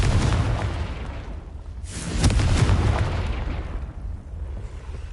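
The Confringo blasting spell explodes in the video game Hogwarts Legacy, a deep booming burst that swells suddenly about halfway through and then rumbles and fades, loud and close over a steady background.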